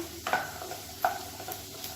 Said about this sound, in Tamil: ஒரு நூறு கிராம் அளவுக்கு பீன்ஸ் வந்து நல்லா பொடியாக கட் பண்ணதை சேர்த்துக்கலாம் சேர்த்து நல்லா வதக்கிக்கலாம்